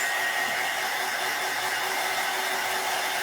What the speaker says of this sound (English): I'm going to get my dryer again because we can't move forward like this.